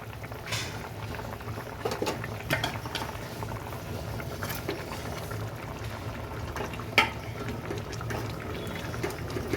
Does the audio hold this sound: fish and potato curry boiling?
yes